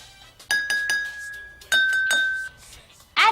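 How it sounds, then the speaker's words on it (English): A spoon taps a glass several times, giving clear ringing clinks that sustain briefly; a few quick taps, then a louder one at the end. "Use a spoon to tap each glass and compare the pitches."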